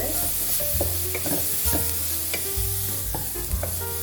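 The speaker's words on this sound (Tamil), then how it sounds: "இப்போ இந்த வெங்காயம் நல்லா வதங்கிடுச்சு." Onions sauté in a pan with a steady close sizzle, and a spoon scrapes and stirs them repeatedly throughout.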